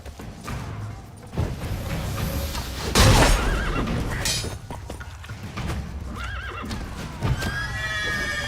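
A horse neighs in The Witcher 3: Blood and Wine, with several loud whinnies among clip-clopping hooves, a heavy thud and scattered game effects in a busy scene.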